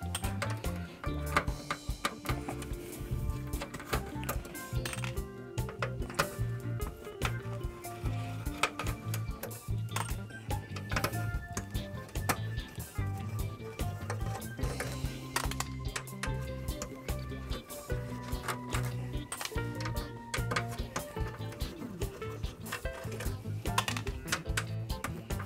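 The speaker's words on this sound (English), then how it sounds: "I'm also going to take these eight black screws out to hold the X clamps in place." Eight black screws backed out of the X clamps on an Xbox 360 console with a red ring of death fault, a dense steady run of small metallic ticks and clicks, close and faint, with no talk.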